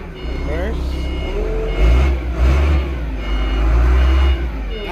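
A vehicle is shifted into reverse during a no-travel fault check, setting off steady repeating reversing beeps over a running engine's low rumble, with brief engine surges and a voice nearby.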